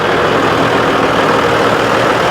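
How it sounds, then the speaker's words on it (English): A 1949 Ford E27N petrol tractor engine idles close by at a show, a steady loud low rumble with even mechanical churn and no talking over it. "the E27N, the tractor that I'm stood inside of right now, is built in 1949, petrol CVO"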